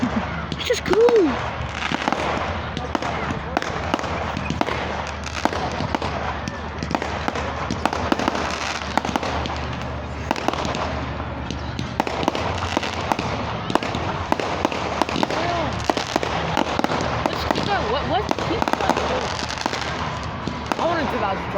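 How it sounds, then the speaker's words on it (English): Fireworks display bursting and crackling with showers of sparks, a dense run of pops and rumbling booms going on continuously, while people talk and shout excitedly throughout. "I've never seen fireworks this long, bro"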